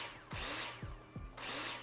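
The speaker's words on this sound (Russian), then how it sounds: "Так, дрелька наша." A power drill in the game Builder Simulator whirs in short close bursts, each spin winding down with a falling pitch, then a final longer buzz, all without any talk.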